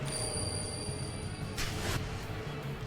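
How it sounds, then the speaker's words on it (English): High, steady ringing tones sustained like tinnitus in the horror game Deathmark, two thin pure whines held over a low hum, with a brief burst of hiss partway through before the drone continues alone. "There's a strong ringing in my ears"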